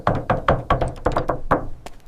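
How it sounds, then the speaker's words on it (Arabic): Repeated sharp knocks on a door, about eight raps in an uneven rhythm over two seconds, close and fairly loud with no talking. "شكون كيدق في الباب؟"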